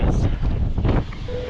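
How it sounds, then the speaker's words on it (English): Strong wind buffets a microphone outdoors near an airport, a loud, low, continuous rumble with gusting surges and no clear speech. "the wind just it picked up a lot"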